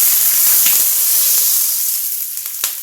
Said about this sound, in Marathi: आता मी यात ओतणार आहे पाणी